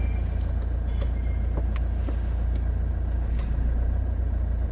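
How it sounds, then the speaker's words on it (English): A car in a driving lesson creeps forward very slowly in forward gear, giving a steady, low engine rumble close by with faint scattered clicks and no talking. "show me how well you can actually move the car forwards very slowly in"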